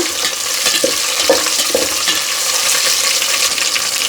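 Potato pieces frying in hot oil for a black-eyed pea curry, a dense steady sizzle with a few stirring scrapes, close and fairly loud throughout with no talk.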